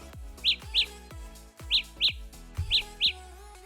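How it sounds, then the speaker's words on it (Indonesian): A Samsung Galaxy Buds+ earbud plays its Find My Earbuds alert: bright bird-like chirps in evenly spaced pairs, three pairs in all, with soft plucked tones underneath. "akan ada suara burung ketika kita start Find"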